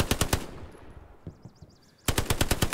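Bursts of rapid automatic gunfire from a machine gun in the World War II shooter Hell Let Loose, loud rattling volleys at the start and end with a quieter gap between them.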